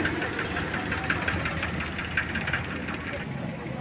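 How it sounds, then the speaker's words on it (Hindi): A 50 HP Sonalika DI-60 double-clutch tractor with a canopy and company-fitted bumper idles at a used tractor market in Sambhal. Its engine runs with a steady, continuous rumble close by while someone talks over it. "ये जो ट्रैक्टर आप देख रहे हैं, ये सोनालिका DI-60 है"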